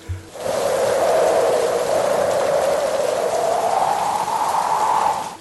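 Heavy rain pours down steadily and loudly, a dense unbroken hiss that fills the whole stretch without pause.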